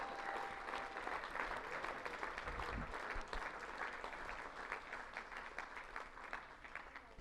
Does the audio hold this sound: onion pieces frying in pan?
no